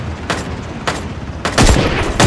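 Gunshots from the online battle royale shooter Ring of Elysium: several loud broadband bursts, a couple of single shots followed by a heavier cluster of rapid fire toward the end, close and with no talking.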